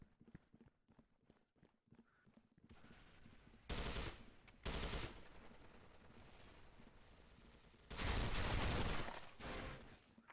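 Gunfire in the shooter game Soldier Front 2, a quick series of faint shots followed by loud, sustained bursts of automatic fire, separated by quieter stretches.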